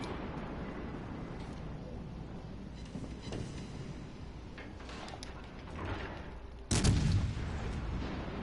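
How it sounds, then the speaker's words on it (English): Warship guns firing armor-piercing shells in World of Warships Legends, heard as a dense, rumbling backdrop of distant naval gunfire with one sharp, louder blast near the end. "We should be shooting AP here."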